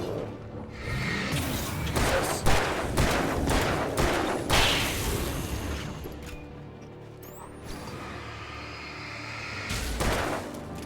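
Gunfire in the horror action game Alan Wake Remastered, a series of sharp, loud shots in irregular bursts over the first few seconds, then scattered hits and clattering effects over a low ambient rumble.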